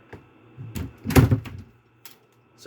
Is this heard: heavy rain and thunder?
no